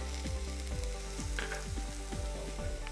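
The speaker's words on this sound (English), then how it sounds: "So the quinoa, we have both white and black quinoa again. I'm going to get those toasted in there." White and black quinoa toast in a pan with a light, steady sizzle and crackle, near and fairly quiet, under a low hum and repeated sliding tones in the background, with no talk.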